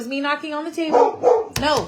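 A dog barks and yips several times close by indoors, the sharp barks mixing with a person talking over them, ending with a louder final bark.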